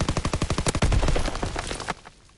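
Rapid automatic gunfire from a WW2 video game, a fast loud burst of repeated shots from an early-war submachine gun, trailing off into echo after about two seconds.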